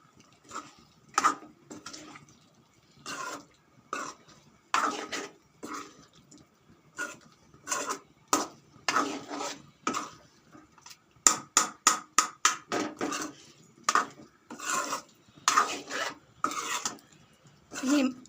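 A spoon scrapes and stirs prawns coated in spice paste around a pan for a prawn roast, giving a string of rasping, irregular strokes that come in quick bursts with short pauses, close and fairly quiet.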